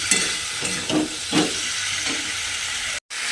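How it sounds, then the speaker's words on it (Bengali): Fried potatoes being stirred with spices in a hot pan, a steady sizzle with a few scraping stirs and a brief dropout near the end. "মশলার সঙ্গে আলুগুলোকে খুব ভালোভাবে প্রথমে কষিয়ে নিতে হবে"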